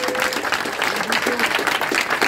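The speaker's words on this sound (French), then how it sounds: "je vous demande un tonnerre d'applaudissements pour monsieur Florent Bétorangal" Thunderous applause from a crowd at an MMA fight night in La Rochelle greets fighter Florent Bétorangal, dense steady clapping filling the hall with faint voices mixed in.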